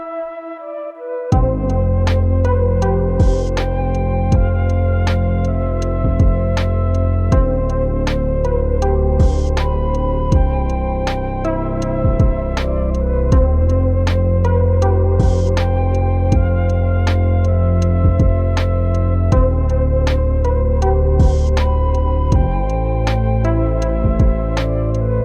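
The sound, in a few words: lo-fi music track being produced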